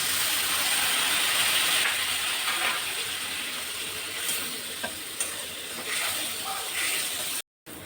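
Spice masala sizzling steadily in a pan after a splash of water is added, with stirring scrapes and a brief cut near the end, while preparing stuffed UP-style capsicum.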